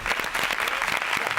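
A studio audience applauds a round winner on a competition show, a short burst of steady, moderately loud clapping from a small crowd.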